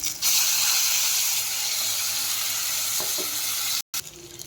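Spice paste frying in oil with salt and turmeric added, for an egg dish with fried potatoes, gives a steady close sizzle and hiss with a few faint stirring scrapes, then cuts out abruptly near the end.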